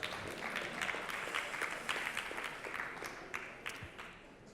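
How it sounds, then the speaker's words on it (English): Audience applause for a keynote speaker at a media festival conference, a steady wash of clapping from a crowd at moderate level that tapers off slightly toward the end. "Let's give him a round of applause."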